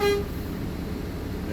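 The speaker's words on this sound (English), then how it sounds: "My city horn and my air horn." A truck's city horn blares in a single loud, sustained blast during an in-cab pretrip inspection, heard up close inside the cab with a steady droning tone and no talking.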